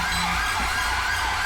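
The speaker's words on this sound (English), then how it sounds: "a lot of them have left their sirens on" Police car sirens in Grand Theft Auto V with a British police mod, a steady wailing siren sweeping up and down, loud and continuous with no talk.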